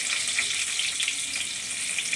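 Onions frying in a pan, a steady bright sizzle close by with faint bubbling crackle and no voices.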